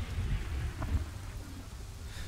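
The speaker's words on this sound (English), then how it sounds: "Again, lots of rain and lightning as they charge forward." Steady, faint rainfall hiss with a low rumbling undertone from a storm in the video game Kingdoms and Castles, continuous and without voices.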